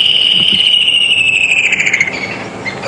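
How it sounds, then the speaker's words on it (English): A woodland kingfisher call plays from a phone app on a morning safari drive at Djuma Game Reserve, a loud, close series of high whistled notes that slide downward and break into a quick descending trill. "with my telephone app that has got the bird call."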